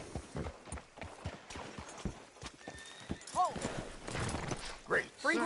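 Hooves clip-clop in a steady walking rhythm in Red Dead Redemption 2, with a horse whinnying, while people talk over it.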